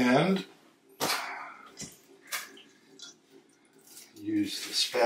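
A spatula scraping and stirring naturally leavened pizza dough in a bowl: intermittent wet squishes and sharp scrapes, close and fairly quiet, with brief clanks against the bowl.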